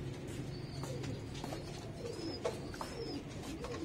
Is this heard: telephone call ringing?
no